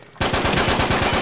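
Loud, close automatic gunfire in the video game Uncharted 3 rattles in an even, rapid burst that fills the whole moment.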